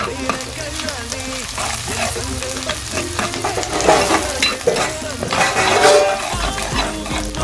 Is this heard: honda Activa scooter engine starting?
no